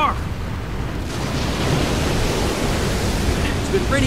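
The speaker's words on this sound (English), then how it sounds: "Oh no! The Lahar!" A loud, steady roaring rush of a lahar mudflow in the video game Disaster: Day of Crisis, churning mud and water, broad and continuous without pause.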